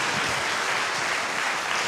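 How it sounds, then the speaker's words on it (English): A crowd claps steadily at a high school Christmas concert, a dense wash of applause with no voices. "Give them a big round of applause as they leave the stage there."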